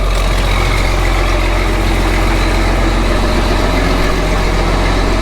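Steady, loud low rumble of a 40-20 tractor engine idling, an even continuous drone with no pauses.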